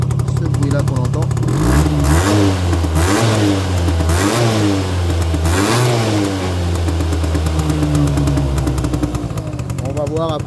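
A scooter engine revs close by in repeated throttle blips, each swelling and falling back, then settles into a steady, buzzy mid-pitched running drone.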